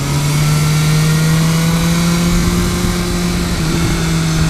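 A 2015 BMW S1000R motorcycle engine pulls hard mid-corner, a loud sustained droning engine note with a steady pitch and heavy wind rush, close and continuous with no talk.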